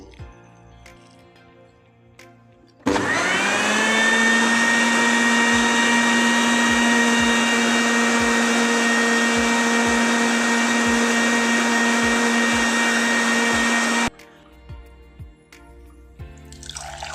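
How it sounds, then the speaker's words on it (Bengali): An electric blender whirs through apple and lemon juice, starting abruptly with a loud steady motor whine that holds for about eleven seconds and then cuts off, with quieter kitchen sounds before and after. "এখন আমি সবগুলো উপকরণ ব্লেন্ডারে ব্লেন্ডিং করে নেব।"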